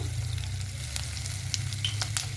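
Cinnamon, cardamom, cloves, whole cumin, bay leaves and asafoetida sizzle in hot oil for a potato curry, a steady close crackle with small pops and faint stirring sounds.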